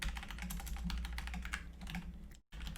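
Steady, rapid keystrokes on a computer keyboard as Python code for a recursive Fibonacci function is typed, dense clicking throughout with a brief pause near the end, no talk.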